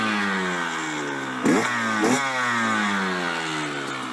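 A two-stroke gasoline engine runs steadily with a buzzing, harmonic drone, its pitch sweeping up and down as it revs, with two short sharper bursts partway through; no voices.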